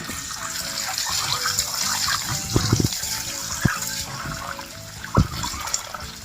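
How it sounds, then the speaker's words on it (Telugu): Eggs fry in hot oil in a pan for an egg and dry fish curry, giving a continuous close, bright sizzle with occasional louder pops and spits. "ఇప్పుడు నూనె వేడెక్కింది గుడ్లు వేయించుకుందాం"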